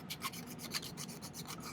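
A hand file scrapes back and forth across a silver tension-setting ring in quick, steady strokes, close up and fairly quiet.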